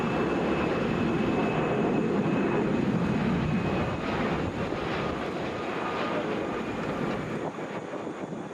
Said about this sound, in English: That was Delta Flight 777 from Vegas, coming down in a Boeing 757.